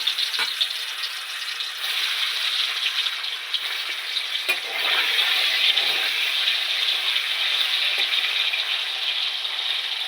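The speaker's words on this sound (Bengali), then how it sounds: "তেলটা গরম হয়ে গেছে এবার আমি একটা একটা করে পনির ছেড়ে দেবো" Paneer pieces frying in hot oil, a loud, even, close crackling sizzle that holds for the whole stretch with a few small clicks, no one talking.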